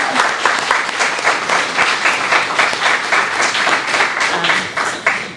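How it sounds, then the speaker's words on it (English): An audience applauds steadily at a Somali community celebration of young people, dense clapping sustained and loud for the whole stretch with no talk over it. "Can we just give him another round of applause"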